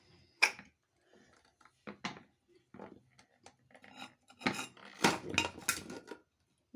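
A spoon mashes cooked dal in a metal pot for drumstick-leaf dal, making scattered scraping clinks and knocks, some single and some in quick clusters, louder toward the end.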